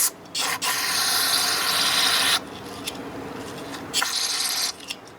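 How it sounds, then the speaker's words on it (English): Paintbrush scrubbing gasoline onto the ignition points of a 1975 Evinrude 40 hp outboard, with loud bristly rubbing strokes in two long bursts separated by quieter pauses, close to the listener and without speech. "The only thing I've ever found that cleans this out real good is paintbrush and gasoline."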